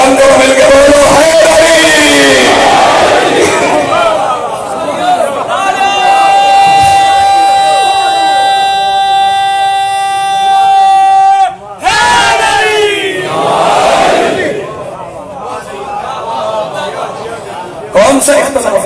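A large crowd at a Shia-Sunni religious gathering shouts in unison, loud and close, in repeated bursts between a speaker's amplified voice, with a sustained chant rising and then breaking off before another collective shout.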